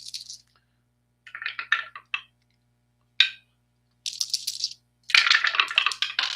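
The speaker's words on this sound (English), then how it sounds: "Whoa, we got hopping dice." Dice for a Strat-O-Matic baseball tabletop game rattling and clattering in bursts, several separate rolls with sharp hops, close and fairly quiet with silence between.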